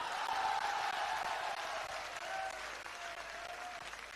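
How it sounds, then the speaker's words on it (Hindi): Audience applause after a poetry recitation, a dense, even wash of many hands clapping heard from a distance, quiet and sustained throughout. "सतीश जी, एक बार अच्छा सम्मान करिए तालियां बजाकर"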